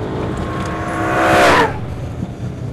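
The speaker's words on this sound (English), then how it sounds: "I've got massive wheel spin in second gear, so let's just see where we go." A BMW M3 E92 accelerates hard in second gear with massive wheel spin on slightly worn tyres, its engine note rising loud and close before cutting off, then fading to a low rumble.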